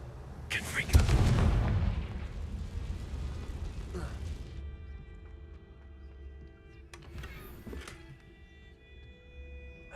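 A fire-spell blast cast in a Harry Potter wizarding video game: a loud, close explosive burst near the start that trails off into a rumbling decay, followed by quieter crackling flares, with a voice present.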